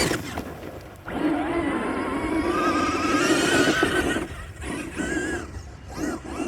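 Electric motor of a Traxxas Pro Scale RC sand car accelerating, a rising high-pitched whine that swells for a few seconds and then drops away, with brief softer bursts after.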